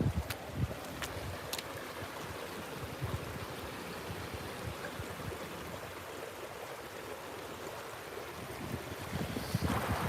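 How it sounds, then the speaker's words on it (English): Faint, steady rushing of tidal water through floodgates churns continuously in the distance, a low broadband wash with occasional wind buffeting. "these floodgates are flooding through"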